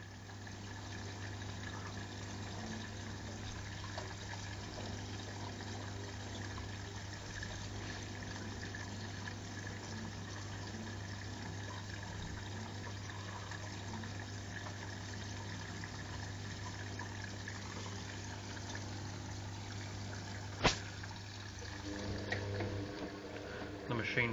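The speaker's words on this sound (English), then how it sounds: "We're now filling up to the maximum water level for rinse one." A Hoover Logic Premier 1250 washer dryer filling with water for its first rinse on a load of towels, a steady low hum of inflowing water running continuously and faintly, with a small clunk near the end.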